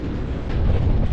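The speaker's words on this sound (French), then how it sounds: "Il y a un petit peu de vent ici." Wind blows across an open mountainside at about 2,185 m altitude at sunrise. It sounds like a low, steady rumble buffeting the microphone, with faint airy hiss above it.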